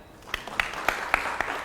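Audience applause for a coaching student at a business seminar, a steady wash of clapping with a few sharper claps standing out, moderately loud throughout.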